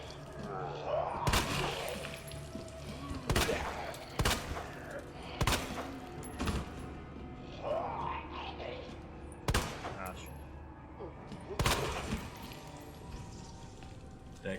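Pistol gunfire in Resident Evil 2 Remake, with about half a dozen sharp shots fired at irregular intervals, under voices talking and other game sounds.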